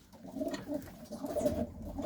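Soft, repeated cooing of blue-eyed pigeons in a gentle rhythmic pattern, fairly close and quiet, with no voices.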